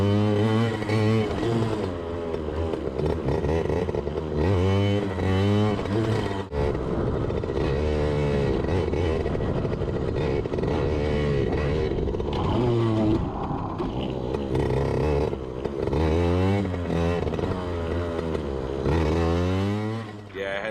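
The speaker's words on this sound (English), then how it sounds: "now it's time to try to do some wheelies on the PW80" A Yamaha PW80 dirt bike revs loudly and continuously during wheelie attempts, its small engine rising and falling in repeated surges up close for the whole stretch, ridden in the rain.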